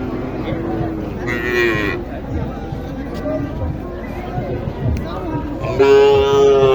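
Cattle, including Sahiwal bulls and calves, moo loudly in a busy livestock market in Naogaon, with low lowing calls rising over a murmur of crowd chatter and background bustle.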